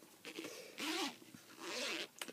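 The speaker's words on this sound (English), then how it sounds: "you can zip it shut, look." The zipper on a Bible's cover is pulled shut in two quick, close zips, soft but distinct, with no talking over them.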